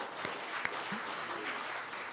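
Faint, distant applause from an audience at a 40th-anniversary commemorative ceremony during a political speech: a soft, steady wash of clapping with a couple of sharper isolated claps.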